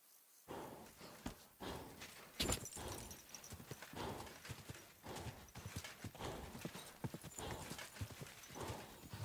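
Hooves clip-clop steadily as a horse walks in the medieval video game Kingdom Come: Deliverance II, close and rhythmic, with a brief whinny in the mix.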